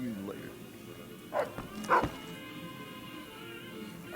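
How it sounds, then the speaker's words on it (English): A dog in the video game Fallout: New Vegas lets out a couple of short barks and yips, faint and muffled as if from another room, over a quiet steady background hum. "I hear his dog, though."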